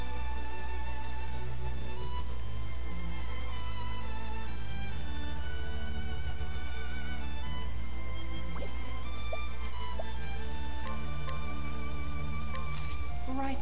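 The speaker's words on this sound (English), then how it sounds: "the sound of a rain brings peace to my heart" Steady rain ambience from the video game Octopath Traveler II, a constant soft hiss of falling rain with scattered drips under a sustained musical tone, even and unbroken throughout with no voices.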